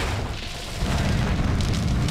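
A heavy explosion booms in the Battletech Heavy Metal mech game as a target is destroyed, a loud, dense rumble that swells after a brief lull and sustains to the end.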